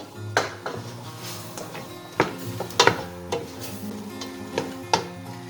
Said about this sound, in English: I've got about 3 onions there that I've chopped that I'm going to pop in and just saute them off a little